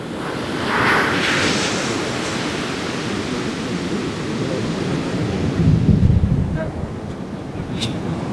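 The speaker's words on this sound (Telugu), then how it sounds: "వావ్ నైస్ అలలు." Ocean waves at Puri wash in continuously with broad hissing surf and wind buffeting the microphone, a swell building louder around the middle, heard from the shore with faint background voices.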